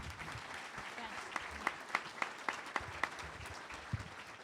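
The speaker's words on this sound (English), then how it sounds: "How about a round of applause?" A debate audience at the Cook County Board President Democratic primary gives a round of applause: a steady wash of clapping with a few sharper individual claps standing out, at moderate level.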